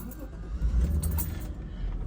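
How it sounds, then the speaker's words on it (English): An Acura Legend with a swapped 3.5 engine cranks and catches, a low rumbling start-up heard close by in the car, with keys jangling briefly and the engine settling into a steady idle. "let's go ahead and give it that start up, man, so y'all can hear it"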